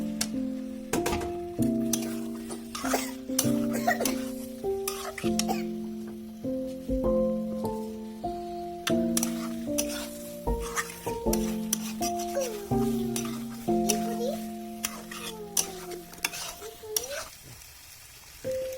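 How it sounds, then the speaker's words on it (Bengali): Potatoes sautéed in a hot pan for Bengali-style dum aloo, sizzling steadily with stirring scrapes and clatter, close up, while a melodic musical background plays throughout. "আলুটা দিয়ে 2 মিনিট কষিয়ে নেবো"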